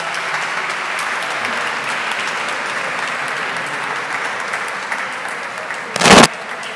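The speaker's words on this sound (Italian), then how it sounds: "Ancora un applauso a Lara." Sustained audience applause at the final of an international classical guitar competition, applauding a performer named Lara; steady broadband clapping throughout, with a brief louder burst near the end.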